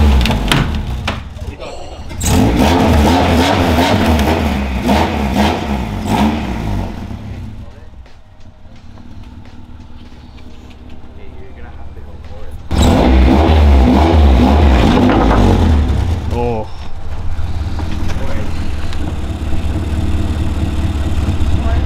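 A stanced Honda Civic EK7 engine idles roughly, then rises in two loud revving bursts with a lull between, heard up close while people talk nearby.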